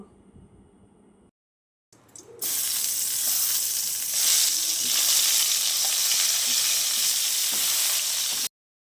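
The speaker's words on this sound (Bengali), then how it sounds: "তারপর একই তেলে আমরা কিছু বেগুন ভেজে নিব" Brinjal (eggplant) slices frying in hot oil in a pan, the same oil used before for potatoes, make a loud, steady crackling sizzle that starts abruptly after a short quiet gap and runs on continuously.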